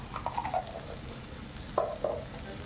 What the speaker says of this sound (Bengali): ভালো করে নেড়ে একটু ঢেকে ঢেকে কষে নেব।